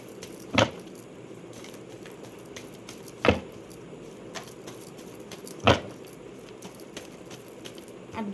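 Tarot cards are handled and drawn from a deck, with three soft, sharp slaps spaced a few seconds apart over a quiet room background.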